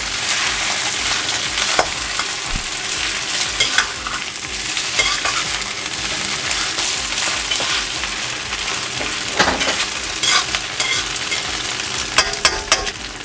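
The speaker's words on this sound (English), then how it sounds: "And now we'll add the noodles. Stir it up really good." Noodles for pad see ew are stir-fried in a hot wok with a constant close sizzle. A spatula scrapes and clatters against the metal at an irregular pace throughout.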